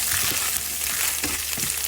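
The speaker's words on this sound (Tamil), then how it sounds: "நான் தேங்காய் முந்திரி சேர்த்து நம்ம இதை அழகாக வறுத்துக்கலாம்." Steady crackling sizzle of coconut and cashews roasting in a hot pan, with a few soft scraping stirs.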